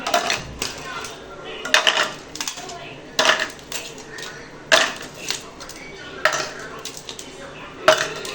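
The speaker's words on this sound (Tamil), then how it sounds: "இப்போது நம்ம சில்லுக்காக ஐஸ் கியூப் சேர்த்துக்கலாம்." Ice cubes dropped one after another into a chilled fruit drink, a series of sharp hard clinks and clatters against the glass, spaced in irregular bursts, close and fairly loud.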